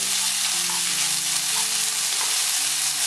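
Rice sizzles and fries steadily in a Chinese wok with eggs, a dense, loud hiss with occasional stirring scrapes, close up and without speech.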